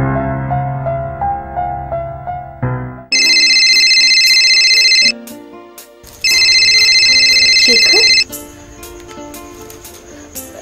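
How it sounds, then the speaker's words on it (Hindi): A telephone rings in two long, loud electronic bursts with a pause between, following soft indoor music with no one talking. "यार महक को फोन करते हैं।"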